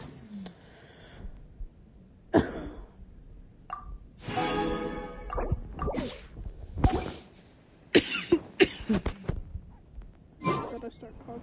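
Several coughing fits from a person come in separate bursts, loud and close, with short pauses and a few small clinks in between.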